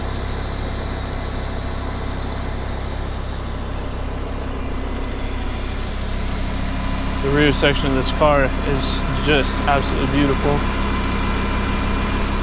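A 2019 Lamborghini Huracan LP580-2 V10 idles with a steady, smooth low rumble that holds constant throughout, while someone speaks over it near the end.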